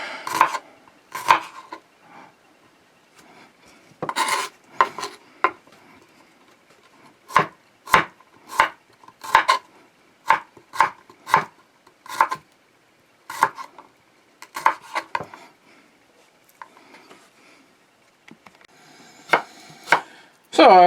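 A knife slicing through a head of cabbage on a cutting board, a series of crisp separate chops in irregular bursts, close and clear with quiet gaps between.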